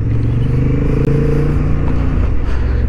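A Honda Hornet 750 motorcycle accelerates hard on a race track, its engine a loud, continuous droning roar with steady harmonics and faint clatter, heard up close with no talk.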